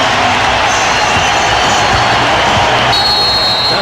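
Arena crowd of over 19,000 at a 1993 Spurs vs Suns basketball game rising to its feet, a dense, loud, continuous roar of cheering that fills the space without pause.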